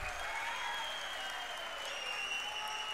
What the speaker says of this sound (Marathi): टाळ्या वाजत राहिल्या पाहिजेत.